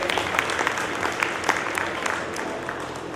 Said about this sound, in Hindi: मैं समझता हूँ इसके लिए बहुत बहुत एक बार सभी का ताली बजाना चाहिए हमें